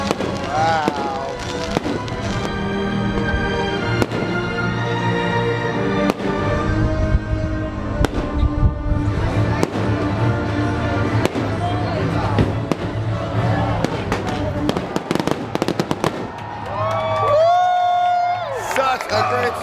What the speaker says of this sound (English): Definitely enjoyed those fireworks.